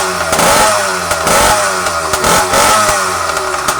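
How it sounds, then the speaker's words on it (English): A Yamaha YD100 motorcycle engine runs close up and loud, alternating between a rough, clattering idle and a few sharp revs that rise and fall. "I fired up the yd100 real quick, and I just want you guys to see this."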